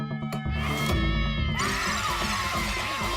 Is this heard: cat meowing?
yes